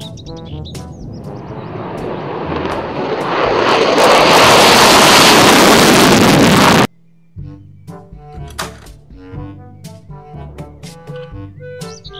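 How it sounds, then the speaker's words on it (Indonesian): A jet aircraft roars, swelling louder over several seconds, then cuts off sharply and gives way to light plucked music. "Pesawat jet tempur"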